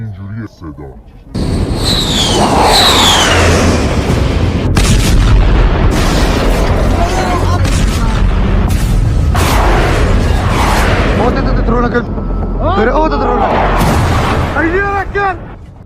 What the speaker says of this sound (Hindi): अब ये बहुत ही महत्वपूर्ण ब्रिज था जिसे धमाका करके उड़ा दिया गया।